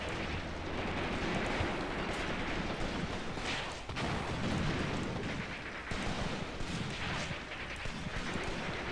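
Tank cannon fire in the WWII strategy game Cross of Iron: Mius Front, German defense: steady heavy booming and rumbling explosions, loud and continuous with periodic stronger blasts, no talking.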